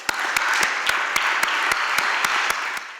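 An audience applauds warmly to welcome a speaker at a talk on inclusive education and family participation in schools, a steady wash of many hands with a few louder individual claps standing out, continuous and fairly close.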